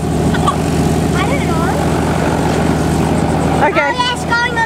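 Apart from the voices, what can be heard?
helicopter in flight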